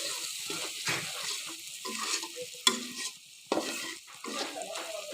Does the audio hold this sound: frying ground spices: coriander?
yes